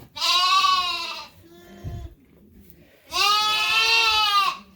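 Ewes and lambs in a barn, two long loud bleats separated by a quieter gap with a soft shuffle and thump, close by with no talking.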